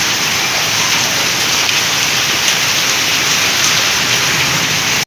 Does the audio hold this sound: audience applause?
no